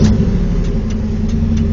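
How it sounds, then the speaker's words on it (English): A 1995 Chevrolet Camaro Z28 V8 catching and running right after the ignition is turned, heard up close as a loud, steady low engine rumble with a few faint higher ticks over it. "and the car starts."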